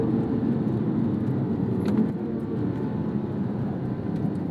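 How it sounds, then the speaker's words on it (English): A 2007 Porsche 911 GT3 (997.1) with a Sharkworks bypass exhaust, valves open, gives a steady, full engine drone that holds at an even level throughout, with no voices over it. "that Sharkworks bypass sounds so good with the valves open"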